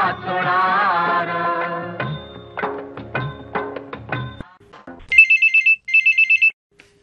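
A telephone rings into a radio phone-in programme studio, sounding two close, loud electronic ring bursts in quick succession after the end of a song, with no talk over them.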